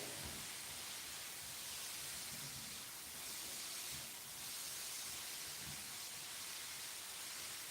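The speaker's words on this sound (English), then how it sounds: "We're still just browning off, or rather let's say sauteing, the mushrooms, onion and garlic" Mushrooms, onion and garlic sauteing in a pan for risotto: a steady, soft sizzling hiss with gentle crackle, low and continuous, with no talk.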